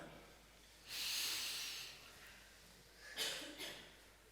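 A deep breath drawn in through the nose during a breathing exercise: a long, airy inhale with a softer hiss trailing off, followed by two short sniffs, close and fairly quiet.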